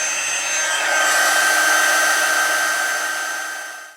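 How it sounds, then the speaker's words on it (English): Steady whooshing hiss of a heat embossing tool warming embossing powder for a Stampin' Up! card, loud and continuous with a faint whistle-like tone throughout, tapering off at the end. "I'm going to let this heat up for a second and then get this heat embossed"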